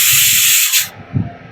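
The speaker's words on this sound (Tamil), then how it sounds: "குக்கர் விசில் அடிக்குது பாருங்க." A loud, sharp steam hiss from a pressure cooker whistle that stops abruptly after about a second, leaving low kitchen rumbles.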